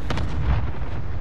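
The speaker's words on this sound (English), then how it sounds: "Enemy cluster strike incoming." Cluster strike explosions in Call of Duty: Modern Warfare roll in as a dense run of booming blasts. They are loud and close and overlap into a continuous rumbling barrage.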